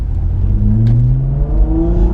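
A modified Volkswagen Mk IV R32 engine revs up steadily, a rising droning whir building over a deep rumble, loud and close throughout with no speech.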